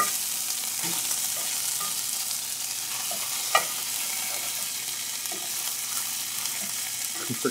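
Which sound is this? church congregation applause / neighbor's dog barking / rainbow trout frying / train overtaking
rainbow trout frying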